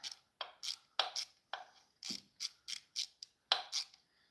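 Close ratchet wrench tightening timing-chain bolts on a Ford Focus ST EcoBoost engine, heard as a steady series of about a dozen sharp clicking bursts in quick rhythmic strokes, with no talking.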